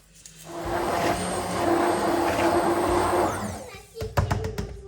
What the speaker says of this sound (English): Now we'll blend that up a little.